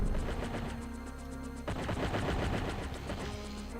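Rapid automatic gunfire from the shooter game Shots Fired: Overkill, a fast relentless stream of shots with a brief shift in weapon sound midway, loud and continuous with no voices.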